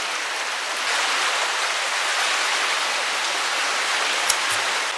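Fast-flowing waterfall water at a riverside park in Kanchanaburi pours in a steady, loud, hissing roar, with a couple of brief low knocks near the end.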